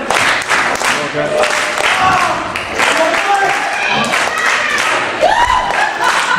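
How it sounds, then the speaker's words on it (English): Wrestling fans at an RWA Revolution event cheer, shout and clap for JFAB, a loud continuous crowd roar with a brief spoken word over it. "JFAB getting the crowd rocking."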